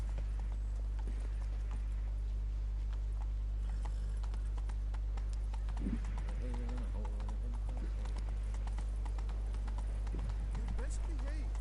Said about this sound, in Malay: Naik kuda je lah.